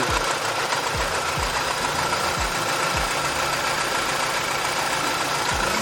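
A BMW 320i engine runs steadily in the open under the raised bonnet, a loud continuous hum with a few low thumps early on and no talking.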